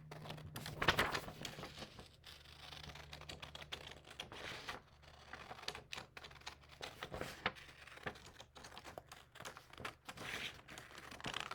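Scissors cut out a paper craft figure, giving a steady stream of faint, close snips and paper crinkles under a low background hum.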